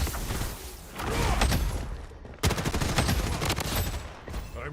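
In the shooter game BloodStrike, loud rapid bursts of automatic gunfire rattle out in two main volleys with a short gap between them, each a dense string of sharp cracks.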